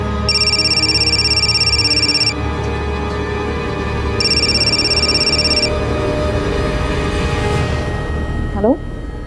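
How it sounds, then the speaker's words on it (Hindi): A phone ringtone trills in two bursts separated by a pause, fairly loud over background noise and talk. "साहब, आपका फोन बहुत बज रहा है।"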